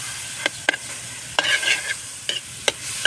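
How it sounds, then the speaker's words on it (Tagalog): Sisig sizzling in melted margarine in a pan, a continuous crackling fry broken by several sharp scrapes and taps of a spatula stirring and turning the meat, close up with no talking. "Natin lutuin sa margarine para nanakit."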